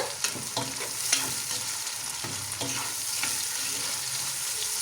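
Chopped tomatoes stirred and fried in a pan for chicken rice, a steady close sizzle broken by scraping spoon strokes at irregular intervals, with no talking.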